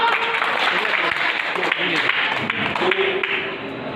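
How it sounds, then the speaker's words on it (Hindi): Audience at an Islamic quiz held during an aqiqah celebration clapping in a dense, continuous burst for about four seconds, loud and close with voices mixed in. "जोरदार तालियां भाई, तालियां बजाओ यार"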